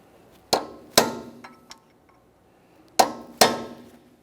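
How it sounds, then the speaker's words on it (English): Hammer strikes on a punch, staking a front axle nut into its groove on a 2015-2019 Subaru Outback: four sharp metallic clangs in two close pairs with a faint tap between, loud and near, no voices. "We're going to be using a hammer and punch to try to drive part of this nut down into that groove"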